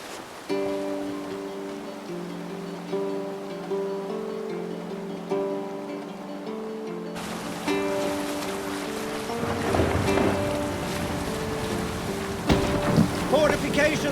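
A sailing ship moves across the sea in Assassin's Creed Valhalla, with rushing water and waves building under a calm sustained musical tone, steady and close, growing louder partway through; no voices present.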